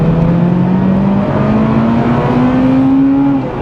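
Honda Integra Type R DC5 engine revving in second gear up to 8,500 RPM, a rising high-pitched wail climbing through each gear-held pull, loud and continuous from inside or near the car.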